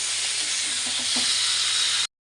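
A steady, close sizzle fills the pan as fish and snake gourd fry, with a few faint soft stirring taps partway through before the sound cuts off abruptly.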